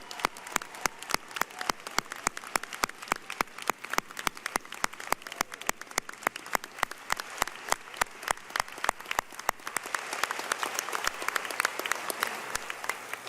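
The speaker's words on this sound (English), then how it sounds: "One more round of applause for the class of 2023." Audience applause at a medical school white coat ceremony for the incoming class, a sparse run of individual claps that thickens and grows louder toward the end, heard without talk.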